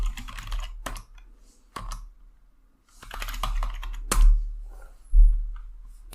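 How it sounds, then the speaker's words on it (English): Keys clatter on a computer keyboard in irregular bursts of close typing, separated by short pauses and a few louder thumping strikes. "So they type the username password."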